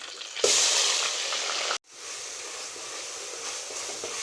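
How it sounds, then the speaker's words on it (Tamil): Ground onion paste, made for chicken biryani, hits hot oil with a sudden loud sizzle, then keeps frying in a steady crackling hiss, broken once by a brief cut before resuming slightly quieter. "போட்டு நல்லா பொரியட்டுங்க இந்த அரைச்ச வெங்காயத்தை அதில் போட்டுக்கலாம்"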